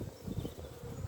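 Honey bees drone softly around an open hive frame heavy with pollen, a faint, low, wavering buzz close by with no talking.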